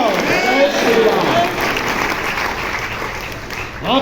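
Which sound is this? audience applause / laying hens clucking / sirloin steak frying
audience applause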